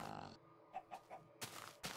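Chicken clucking in the Minecraft video game, a few short, quick clucks in a row between other brief game noises, fairly faint.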